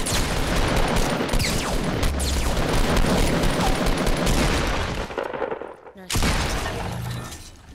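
Rapid pistol gunfire in a Fortnite battle royale match, dense bursts of shots packed together loudly for several seconds before a brief drop-out and a final flurry, with players talking over the action.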